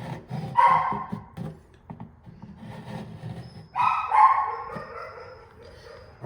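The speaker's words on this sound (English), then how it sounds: "Sorry for the dog in the background." A dog barks in two short bursts a few seconds apart, somewhat distant, with quiet household noises in between.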